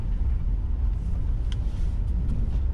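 Steady low rumble of a Rivian R1T quad-motor electric truck accelerating on desert dirt with the suspension set low in sport mode, a continuous road and tyre roar at constant loudness without any talk.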